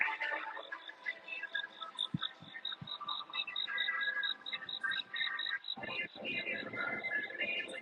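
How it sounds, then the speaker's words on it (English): Outdoors at night, a loud cricket chirps rapidly and continuously in a steady high trill, close by, with rustling and other night insects underneath. "Man, that cricket is just going crazy. You guys hear that cricket? It's loud."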